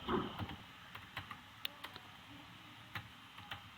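Typing on a computer keyboard in Notepad: a quiet, uneven series of close key clicks over about four seconds, with brief pauses between taps.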